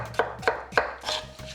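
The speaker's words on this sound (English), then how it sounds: "Slice them up" A knife cuts through a peeled pear in three or four quick, crisp strokes, each ending in a light tap on the board, close and clear with no voices.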